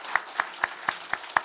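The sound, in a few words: church congregation applauding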